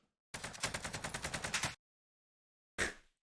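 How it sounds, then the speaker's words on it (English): Automatic rifle fire in Call of Duty: Warzone, a rapid burst of about a dozen evenly spaced shots lasting over a second, then after a pause one more short burst, close and clear with no talk. "We wasted 12 bullets transitioning from one enemy to another."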